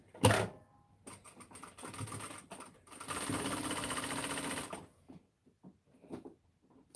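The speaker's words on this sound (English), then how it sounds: "I'm going to sew around twice." A sewing machine stitches a baby play pad in short runs: a brief burst of whirring needle clatter, then a longer steady run, close and fairly quiet, with small handling knocks in the pauses.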